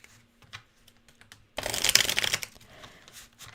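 A tarot card deck being shuffled up close, a dense crisp riffle of rapid card flutters lasting about a second, set between quieter scattered taps and handling sounds, with no talking.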